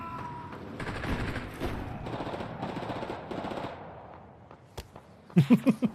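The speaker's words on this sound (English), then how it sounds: "No, they are shooting us." Gunfire from the video game Wardogs: sustained rattling bursts through the first few seconds, then sparse isolated shots and a final cluster of sharp, loud close reports.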